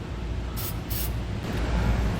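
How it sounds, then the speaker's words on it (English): Black spray paint is hissed onto raw metal edges in two short, close bursts over steady background noise. "I recommend putting a little bit of spray paint just to kind of cover that up"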